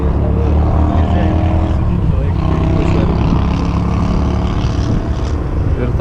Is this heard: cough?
no